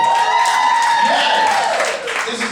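A comedy club crowd claps and cheers briefly on cue, a short burst of dense applause with a voice riding over it that fades near the end.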